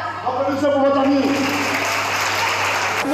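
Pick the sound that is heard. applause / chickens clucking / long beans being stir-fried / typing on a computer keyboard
applause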